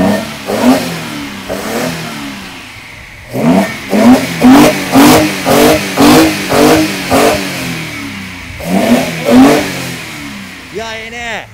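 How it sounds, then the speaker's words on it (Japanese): A classic car engine fitted with Solex carburetors revs hard in a series of rapid, loud throttle blips with brief idle gaps between bursts, heard up close while voices talk nearby. "これがソレックスの音。"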